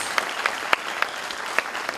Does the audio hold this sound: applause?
yes